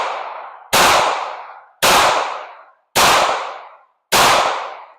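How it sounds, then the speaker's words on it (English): Five sharp pistol gunshots fired one after another at roughly one-second intervals during a competitive shooting drill, each loud crack followed by a long decaying echo, with no voices. "I will pretty much like assemble the gun, put the mag in, send the slide forward, and then shoot"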